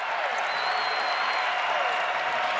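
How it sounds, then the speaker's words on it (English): A basketball crowd in Diddle Arena roars without a break during a Western Kentucky game against UTEP. The dense, steady cheering and applause stays loud for the whole stretch. "It's gotten loud in this arena."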